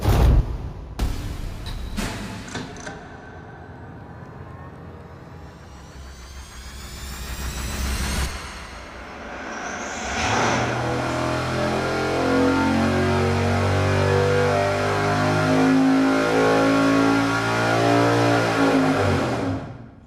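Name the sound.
car engine running on E85 fuel, revving on dyno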